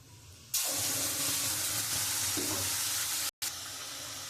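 Spice paste hitting hot oil for a prawn curry, bursting into a loud, continuous sizzle that starts abruptly after a quiet moment and keeps hissing, with a brief dropout near the end and no voices.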